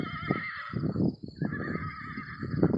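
A talking car interface plays a horse neigh imitation, a loud, close whinny with rising and falling tonal bursts that stands alone and fills the moment.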